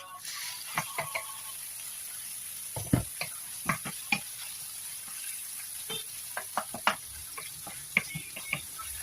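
Chicken frying in hot cooking oil in a home kitchen, a steady soft sizzle broken by irregular scraping and clacking taps as it is stirred, moderately close with no talking.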